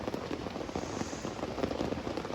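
Rain falling in a forest in Kalimantan, a dense steady patter of drops on leaves and surfaces, close and continuous with scattered sharper ticks.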